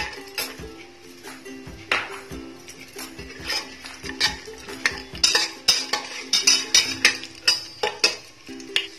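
A spoon stirs cashews in a metal pan for veg biryani, making repeated clinking and scraping strikes over a faint sizzle and a low steady hum.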